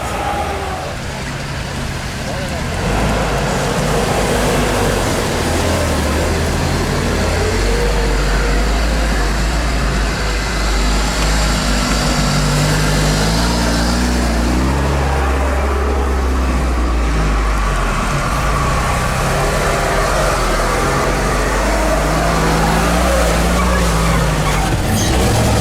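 A UAZ Bigfoot off-road vehicle drives steadily, its engine a loud continuous low rumble with shifting tones throughout, close and unbroken.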